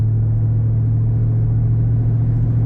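A car cruising steadily on an open highway gives a constant low engine drone and road rumble, close and unbroken, with no voices.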